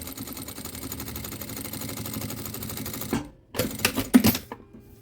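A domestic sewing machine fitted with a zipper foot stitches a zipper on a quilted pouch, running steadily and close for about three seconds, then stopping, with short bursts of reverse stitching after it.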